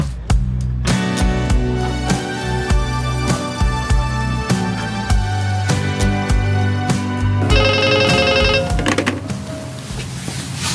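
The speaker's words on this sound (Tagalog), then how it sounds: "itaman pa yung agring ti telepono iti salas" A telephone rings in a home living room, its electronic ringtone repeating in a steady pattern over background drama music, loud and close, with no talk.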